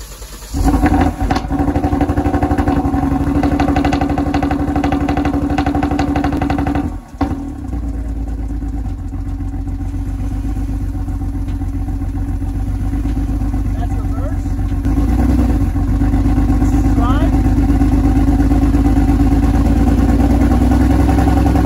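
A rough, loud engine of a wrecked Kia Stinger GT2 runs steadily in drive, rattling and droning with a harsh exhaust tone, briefly dipping once before settling back into a constant idle-like rumble.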